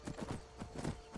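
Horse hooves clip-clop at a steady trot while riding in the Skyrim video game, the soft, muffled footfalls repeating at an even rhythm, fairly quiet and without speech.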